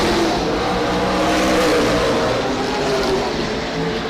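Race cars circle an oval track at Redwood Acres Raceway during the Rhododendron 100, a continuous loud engine roar swelling and easing slightly as the field passes.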